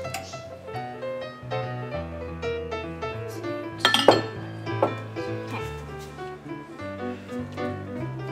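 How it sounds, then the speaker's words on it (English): A spoon stirs chocolate brownie batter in a bowl, making intermittent light clinks and scrapes over steady tonal background music. "Stir it nice and chocolatey."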